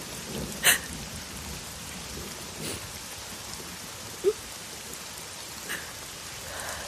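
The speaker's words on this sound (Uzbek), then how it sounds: "Yomg'irni yaxshi ko'raman." Rain falls steadily in a soft, even patter, with a few sharper drop hits standing out now and then and no voices.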